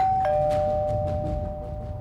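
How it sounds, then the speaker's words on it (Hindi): An electronic doorbell chimes a two-tone ding-dong, the second note ringing on steadily over a low background rumble. "तभी डोरबेल बज गई"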